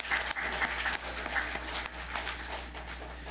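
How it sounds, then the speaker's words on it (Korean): A church congregation applauds warmly after a sermon, the steady clapping filling the room at moderate loudness throughout. "우리 모든 자신에게도 뜨거운 박수 부탁드리겠습니다"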